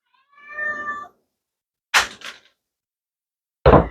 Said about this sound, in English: Who's that cat?